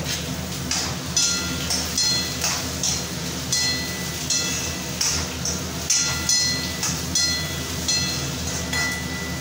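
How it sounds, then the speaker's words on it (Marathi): A kitchen chimney exhaust hood runs above a stove where onions are roasting, giving a loud, steady whooshing drone with faint clatter and ticks scattered through it. "मला ऐकायला येत नसाल ही चिमणीमुळे."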